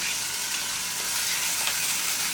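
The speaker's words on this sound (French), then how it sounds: "va finir de mijoter tout doucement. Le chorizo va infuser." Jus with sage and chorizo simmering gently in a pan, a steady dense hiss of sizzling and bubbling with no pauses and no talk.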